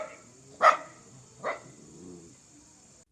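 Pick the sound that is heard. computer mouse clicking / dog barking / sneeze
dog barking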